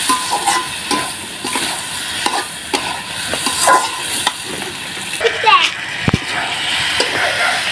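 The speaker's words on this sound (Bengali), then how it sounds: "মশলার সাথে আলু আর বেগুন একদম ভালো করে কষবো" Potatoes and eggplant are stir-fried with spices in a pan for fish curry. A loud, constant sizzle runs under repeated scraping and stirring strokes, with some spoon knocks, and voices, including a child's, can be heard faintly.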